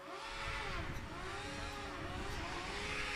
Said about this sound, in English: And they have a green flag, revving very loudly.